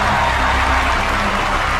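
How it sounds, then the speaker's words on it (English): A studio audience claps loudly and steadily at a hypnotist's show, a dense, even wash of applause that holds at full level throughout. "Give them a big round of applause"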